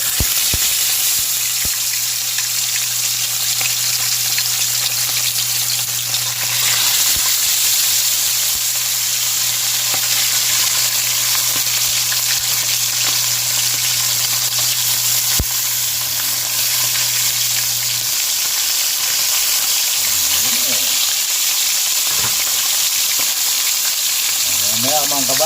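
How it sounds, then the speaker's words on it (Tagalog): Steady, loud sizzling of milkfish frying in a pan, a constant hiss with a low hum through most of it and a few stirring clinks near the end. "nagpapainit na tayo ng ating kawali. Magpiprito tayo."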